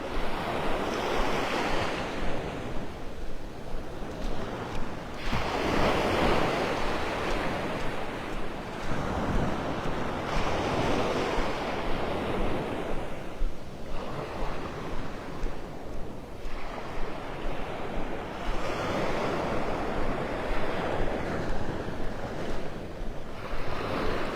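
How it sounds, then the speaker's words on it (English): Ocean waves wash onto the beach at Pelican Bay in North Naples, a steady rolling surf with swells breaking every few seconds, mixed with gusts of wind buffeting the microphone. "Are the waves putting you to sleep?"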